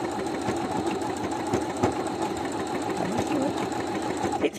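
A new sewing machine chugs along as it stitches, its close, steady mechanical thumping and whirring running continuously with slight labouring lurches, alone without voices.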